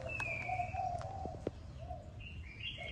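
A young Malaysian spotted dove coos softly at close range, its mellow low notes mixed with thin whistled chirps from other birds over a faint background hum.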